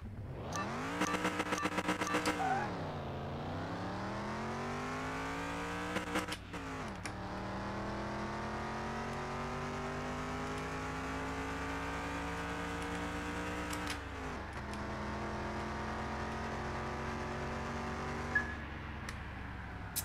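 In a car mechanic video game, an engine revs hard down a quarter-mile drag strip, its tone climbing steadily through each gear and dropping with every shift, loud and continuous with no talking.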